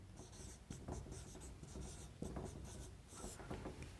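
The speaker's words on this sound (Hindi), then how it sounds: "एक वर्ड लिखते हैं" A word written on a board: quiet, close, scratchy strokes come in quick bursts with brief pauses, and no voice over them.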